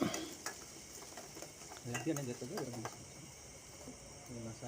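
Chopped shallots and green chillies sautéing in coconut oil with popping mustard seeds, a steady near sizzle broken by scattered crackles and a few spoon stirs against the pan.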